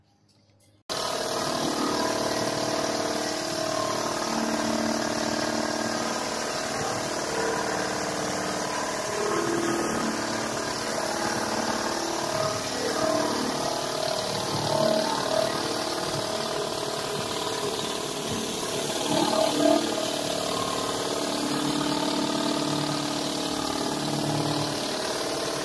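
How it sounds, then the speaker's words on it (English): A pressure washer's surface cleaner runs continuously over an Ipe hardwood deck, a loud, close engine-and-pump drone with spraying water, starting abruptly after a brief silence. "we're going to go over it with our surface cleaner and make this thing look just like new"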